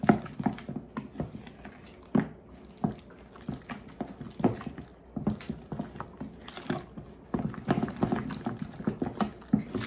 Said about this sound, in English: I'm gonna mix to combine this first.